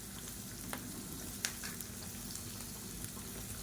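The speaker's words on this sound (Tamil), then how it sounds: "வெங்காயம் பச்சை மிளகா நல்லா வதங்கிடுச்சு" Onions and green chillies sautéing in a pan for chutney, a faint steady frying hiss with a few soft crackles and pops throughout.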